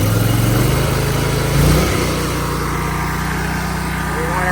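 Oscar 336-35 sawmill engine revving, a loud, steady, close mechanical drone whose pitch shifts as it winds up partway through and then holds a constant roar.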